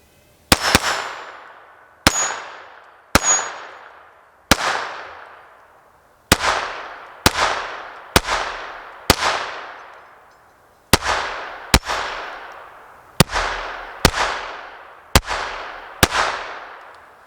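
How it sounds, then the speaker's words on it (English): A Kel-Tec P17 pistol fires about fourteen sharp, loud gunshots, each cracking and then ringing away. They come at an uneven pace, roughly one every second, with short pauses between groups and no voices. "Let's load up some more, do some more shooting."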